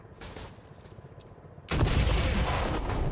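Gunfire in the mech tactics video game Singularity: Mechatro, a sudden loud burst of shots cutting in after a quieter stretch of low background rumble, then a sustained dense roar of fire.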